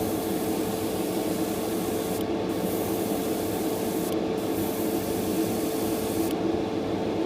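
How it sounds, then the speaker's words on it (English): An airbrush spraying primer onto a model kit gives a steady, hissing spray that runs continuously at close range, with a constant mechanical hum beneath it and brief breaks in the upper hiss. "I'm just spraying it on."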